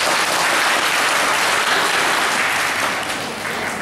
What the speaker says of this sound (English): please give a big applause for him